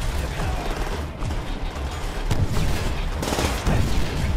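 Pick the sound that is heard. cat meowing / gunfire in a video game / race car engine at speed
gunfire in a video game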